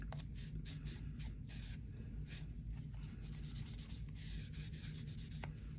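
Cheesecloth rubs sandpaper dust off a mixed-media craft piece, a soft steady brushing and scrubbing close by, continuous with repeated strokes and no talk.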